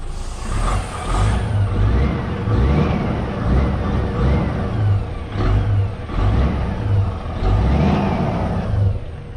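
A DAF truck engine runs close by outside, with a deep idle rumble swelling into repeated revs and easing back in waves, plus hissing and whistling overtones.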